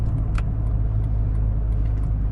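A 1993 Honda Civic Genio with an aftermarket racing exhaust idles in a deep, steady, throbbing rumble, close and continuous, with a few faint clicks on top.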